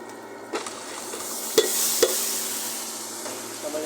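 A spoon stirs a Tamil vegetable curry (kuzhambu) with coriander and salt in a pan, giving a few sharp scraping clicks against a soft, continuous sizzle, close and clear with no talking.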